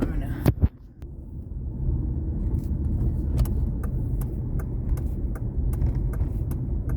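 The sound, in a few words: tow truck passing on the road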